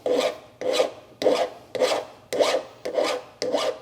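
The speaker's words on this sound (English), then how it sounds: "So this is where that file comes in. So just lightly kind of put it on the end, take that burr off" A hand file rasps across the cut end of a steel brake line to remove the burr, seven evenly spaced, crisp strokes in a steady rhythm, close and clear with no talking.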